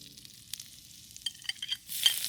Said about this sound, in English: You're going to put that garlic and gingers in it first